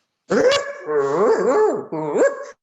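A dog barks and yips in close, loud bursts with a whining, pitch-bending quality, likely a voice imitating the animal during a Passover seder sing-along of Chad Gadya.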